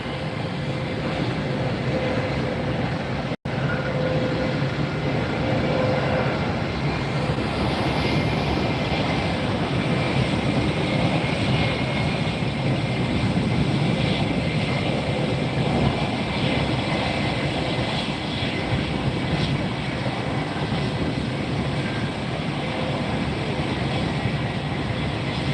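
A Douglas DC-3 propeller airliner takes off at Fort Lauderdale, a sustained broad engine drone holding steady and fairly loud over the whole stretch with no voices.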